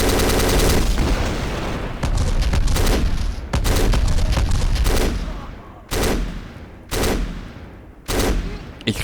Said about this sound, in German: Ich liebe die Explosionen in dem Spiel